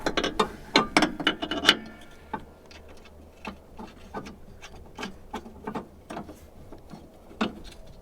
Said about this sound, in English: This you can just put an open-end wrench on that and then tighten it up